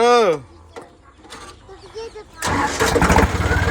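An engine cranks and catches, starting up with a rough rumble that grows loud and steady, following a brief animal call and some distant voices.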